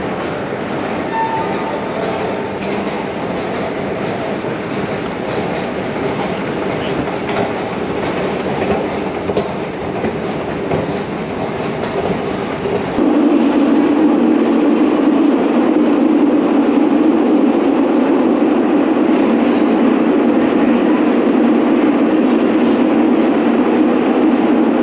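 A New York City subway train rides along with a constant rumble and clatter of wheels on track, and the noise gets louder and harsher about halfway through.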